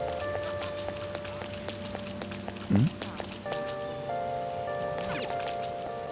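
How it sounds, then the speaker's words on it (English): Rain falls in the video game Persona 5 as a soft, steady patter under faint game music and tones, with a brief louder blip partway through. "I feel so down when it's raining."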